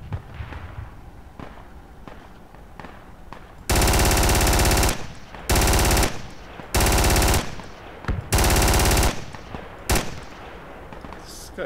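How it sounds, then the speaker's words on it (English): Long bursts of automatic assault rifle fire in a video game shooter, four loud sustained volleys separated by short gaps, followed by a few single shots, with quiet background sound before the first burst. "AR getting ready to fire here."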